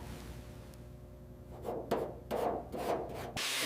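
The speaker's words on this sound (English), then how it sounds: "We don't grind for drama. We grind to save the shape." Rusty bodywork on a 1964 Ferrari 330 GT being ground and worked out in rough, scraping bursts that swell and fade in repeated strokes, then a loud steady grinding wash at the end.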